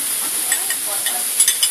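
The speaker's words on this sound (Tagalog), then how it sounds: "Add the mushroom. Sliced mushroom." Sliced mushrooms added to a pan of sizzling bacon, giving a close, hissing fry with a few brief stirring scrapes and pops over a couple of seconds.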